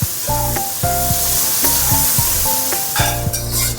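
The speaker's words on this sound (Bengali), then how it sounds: "পেঁয়াজগুলো একটু ভেজে নেব, বেরেস্তার মতন করে ভাজবো না, তবে হালকা করে ভেজে নেব।" Onions frying lightly in a pot for a one-pot egg pulao, with a steady close sizzle broken by the scrape and clatter of stirring.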